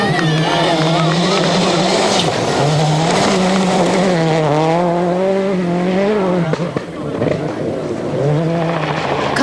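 A WRC 2003 rally car on a stone-covered stage in Cyprus roars loud and close, its engine pitch swinging up and down through gear changes with a brief dip partway through.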